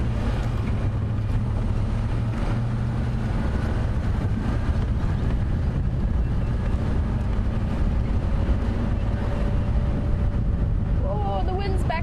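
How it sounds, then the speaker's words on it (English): Strong wind blows across an open outdoor safari setting, a steady broadband rush with low rumble and buffeting throughout, alongside a faint engine-like drone. "Oh, the wind's back up and the clouds have come back"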